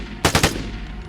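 An M16 rifle in the game Vigor fires a rapid burst of three loud, sharp cracks close by, then a brief ringing tail fades into the ambient background.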